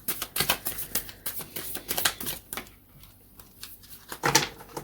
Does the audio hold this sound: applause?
no